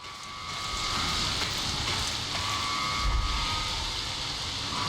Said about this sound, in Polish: Że sobie tak deszczyk pada przez to, przez ten budynek